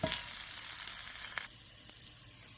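Potatoes searing in a hot pan, a soft, steady sizzle up close that drops lower partway through, with a couple of faint utensil taps.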